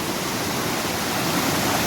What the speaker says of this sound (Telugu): ఇప్పుడిప్పుడు వర్షాలు పడుతున్నాయి కాబట్టి వాటర్ ఫ్లో అనేది బాగానే ఉన్నది